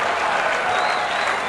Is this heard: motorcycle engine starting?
no